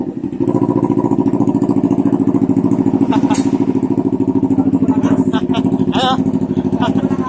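An NK400 motorcycle fitted with a new exhaust idles loudly and close by in a steady, throbbing rumble, its revs rising slightly midway. A voice calls out briefly over the engine.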